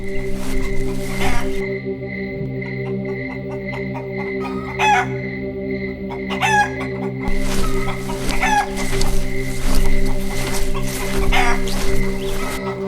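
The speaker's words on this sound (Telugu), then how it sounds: "శ్యామ్ బయటకు వెళ్ళి ఒక నల్ల కోడిపెట్టని తీసుకువచ్చాడు." Black hen clucking close by in a village setting, a series of short repeated clucks and squawks over a steady low background drone, with no talk.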